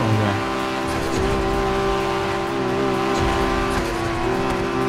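A fast car in a driving video game, heard as a steady, loud engine drone with layered tonal whine and some tire noise throughout, no talking.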